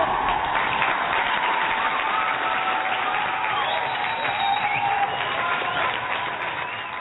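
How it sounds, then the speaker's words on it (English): Sustained applause rolls through a crowd, steady dense clapping with a few cheers and murmurs, tapering slightly near the end. "So you know what? Round of applause for you,"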